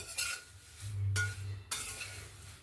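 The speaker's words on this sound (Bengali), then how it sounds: "খালি এমনি কড়াইতে নেড়ে চেড়ে এটাকে ভেজে নেব কুড়কুড়ে করে।" Thin flattened rice being dry-roasted and stirred in a wok, with repeated scraping and clinking strokes of the spatula against the metal. The strokes are close, moderately loud and come in an uneven rhythm with no talk.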